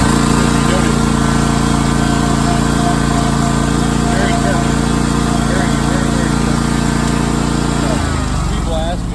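Ferris 36-inch stand-on lawn mower engine running loud and close at a steady idle, a constant droning roar that dips in pitch near the end.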